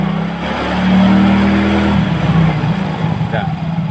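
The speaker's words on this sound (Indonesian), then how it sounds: "Coba fokus di suara mesin ya, coba digas." A Yamaha Mio J motorcycle engine idles, then revs up for about a second before settling back to a steady, smooth idle, close and loud.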